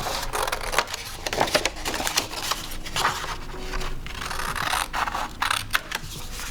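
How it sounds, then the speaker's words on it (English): Scissors cutting paper rose petals, quick close snipping and scraping that repeats without a break, loud and alone. "And then the third piece, you're going to cut out 3 petals."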